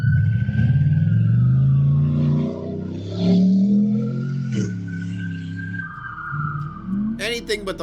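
A stolen truck revving and driving through a residential yard past a backyard playset, engine rising and falling up close before a sharp crunching burst at the end, with brief faint voices in the background.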